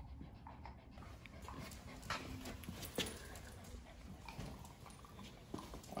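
A dog moves around a workshop where a boiler is being installed, its panting and light clicking footsteps close by, shuffling steadily across the floor with occasional louder scuffs.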